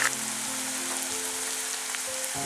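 Crushed shallots sizzle in hot coconut oil for a Koorka mezhukkupuratti stir-fry, giving a steady, close hiss and crackle that holds evenly throughout with no talking.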